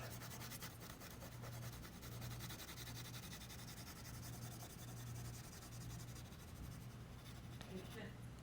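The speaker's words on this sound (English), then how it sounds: "hatching is when you use the side of your pencil for shading in one direction" Pencil hatching on paper, the side of the graphite rubbed back and forth in one direction, a soft continuous scratchy rasp, close and quiet, with a low hum beneath.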